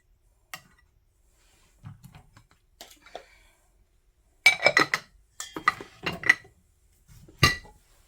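A butter dish is handled for cake batter, giving sparse clinks and knocks at first, then a cluster of sharper clatters and scraping taps from cutting butter, close and alone with no talking.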